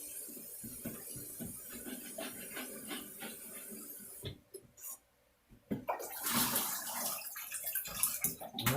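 Tap water running into a sink while macaroni is rinsed, a steady hiss that stops briefly and then returns louder with splashing, fairly faint.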